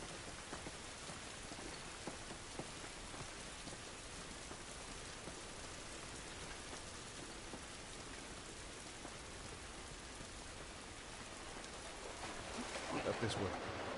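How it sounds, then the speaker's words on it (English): Steady rain pours in The Last of Us as a dense, continuous hiss, fairly loud throughout and swelling slightly near the end, with a voice occasionally heard beneath it. "It's raining"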